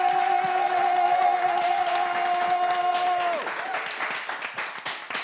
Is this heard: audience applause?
yes